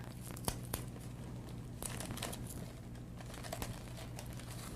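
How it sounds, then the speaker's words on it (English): Clear tape pulled and pressed along the seam of gift wrapping paper, with steady crinkling and a few sharp tearing crackles of paper and tape throughout, close and fairly quiet, no talking. "I like to run down the whole seam with the tape."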